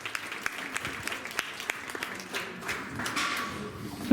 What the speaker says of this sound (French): on essaie de continuer à bien applaudir